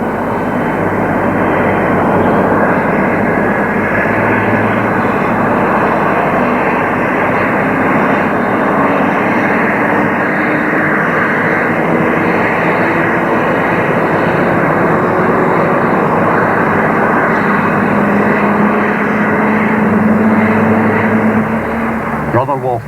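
Steady, loud droning of an aircraft engine in flight, continuous and unbroken throughout, carrying Celtic supporters on an airlift to Lisbon.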